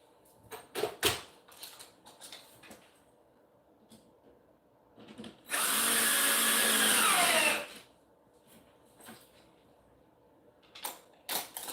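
A power drill driving screws whirs loudly for about two seconds in a single burst while assembling an Ikea Billy bookcase, with clatter and knocking of handling before and after.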